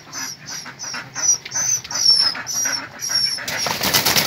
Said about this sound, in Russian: Утки мои